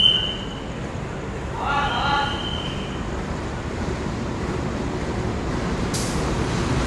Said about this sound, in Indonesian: rangkaian kereta api Mutiara Timur masuk stasiun Surabaya Gubeng